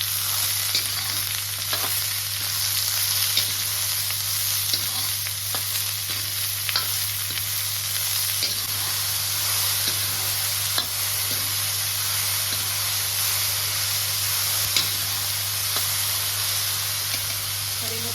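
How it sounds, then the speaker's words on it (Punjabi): Onions frying steadily in a pan while okra curry is cooked, a continuous close sizzle with faint stirring scrapes and a low steady hum underneath, no talking. "ਪਿਆਜ਼ ਨੂੰ ਆਪਾਂ 1-2 ਮਿੰਟ ਲਈ ਭੁੰਨਾਂਗੇ"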